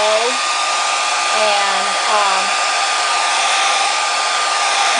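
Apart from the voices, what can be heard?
blower drying collaged paper on freezer wrap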